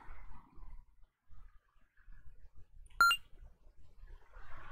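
A single short electronic phone interface beep from the Therapist: Mind Manager video game, sharp and clear against near silence, with faint low rumbles around it.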